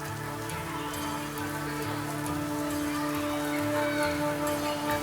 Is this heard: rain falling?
yes